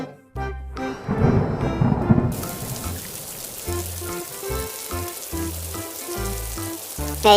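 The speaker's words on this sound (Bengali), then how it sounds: "এই সময় আবার বৃষ্টি এলো কোথা থেকে?" Cartoon rain and thunder in a fox-and-tiger story: a loud rumbling crash with a rushing downpour swells over the first two seconds, then settles into steady rain beneath a looping musical score.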